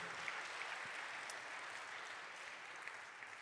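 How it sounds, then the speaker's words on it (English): Faint, distant applause from the audience at a congressional candidate forum, a soft even wash of clapping with no voices over it. "We have a little applause, I think."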